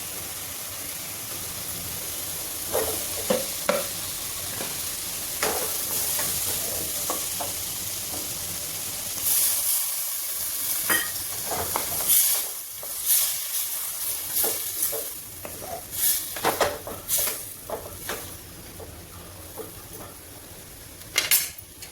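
Masala with roasted cumin and curry leaves fries and sizzles in a pan, a soft steady hiss broken by scattered stirring scrapes and clinks from a utensil.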